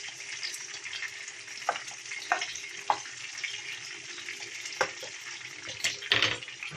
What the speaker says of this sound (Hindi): अब हम हरी मिर्ची डालेंगे इसमें सारी। इसे अच्छे से ऑयल में चलाएंगे